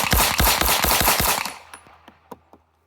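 Seven rapid pistol shots from an S&W Spec Series V steel-frame handgun ring out close and loud in quick succession, followed by fainter echoing reports and a few sharp trailing clicks as the string ends.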